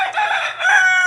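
Chickens in a farmyard, including egg-laying hens with a rooster among them, give loud, close fowl calls that run unbroken for about a second with no talk over them.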